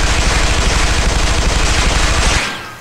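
Rapid automatic gunfire from the shooter game Interstellar Marines, a loud, steady stream of closely spaced shots that holds for over two seconds and then stops abruptly.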